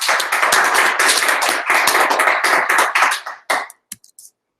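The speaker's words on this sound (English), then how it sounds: "Let's give him a round of applause." Audience applause at a lightning-talks evening, a dense burst of many hands clapping for about three seconds, then thinning to a few scattered claps before fading out.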